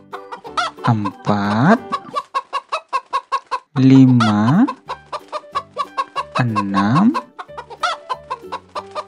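Chickens clucking in a garden, repeated bursts of loud clucks between steady rhythmic counting by a voice, in a children's counting song.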